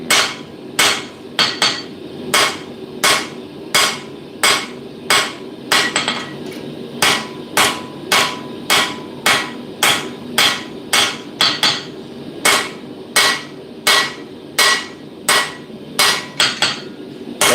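Hammer beveling a knife blade at a blacksmith's forge: a steady series of loud, ringing metal strikes, about one or two per second, close by with no talking.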